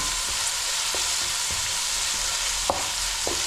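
Onions fry in oil for a village-style broiler chicken curry, a steady close sizzle broken by a few sharp spatula scrapes and knocks against the pan.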